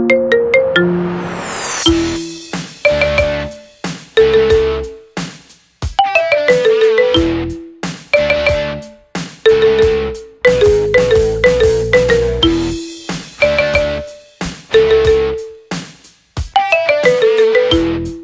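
A marimba remix of a rock song plays as a phone ringtone, with bright, plucky mallet notes repeating the riff in clipped phrases that ring loudly and decay quickly, separated by short pauses.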